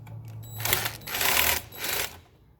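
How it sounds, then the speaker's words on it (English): Screws on a light switch are tightened by hand with a screwdriver during a switch-feed wiring repair, giving several close, scratchy mechanical clicking bursts in quick succession. "I tighten these 2 screws in so it lessens the chance"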